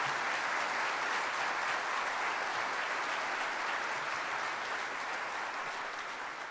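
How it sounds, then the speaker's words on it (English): An audience in a high school auditorium applauds a middle school all-state band and its directors, sustained dense clapping at full strength that fades slightly near the end. "If you want to give them a round of applause,"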